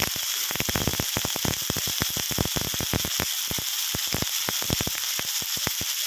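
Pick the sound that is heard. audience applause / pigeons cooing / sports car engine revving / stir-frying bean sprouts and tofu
stir-frying bean sprouts and tofu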